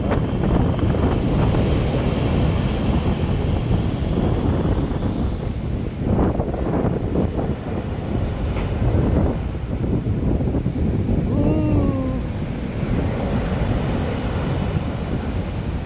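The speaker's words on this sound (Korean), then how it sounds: "자, 강동 정자 바닷가입니다." Wind and surf roll in at Gangdong Jeongja beach in Ulsan on a winter day, a loud continuous roar of breaking waves with heavy wind buffeting the microphone; brief faint gull cries sound near the end.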